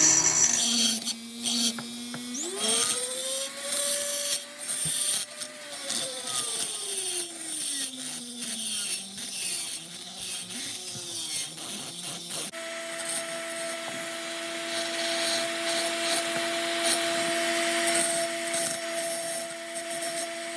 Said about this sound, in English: I'm going to finish the grinding